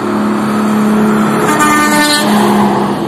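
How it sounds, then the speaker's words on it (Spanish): Traffic on a road toward Bogotá from Villavicencio, a loud continuous roar of engines and tires with a car horn honking briefly midway, close and steady. "hacia allá van los carros que salen de Villavicencio hacia"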